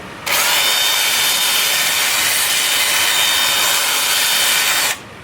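The outside of a cherry wood bowl is sanded while spinning on a lathe, giving a loud, steady abrasive hiss that holds evenly for about four and a half seconds before cutting off, with no talking.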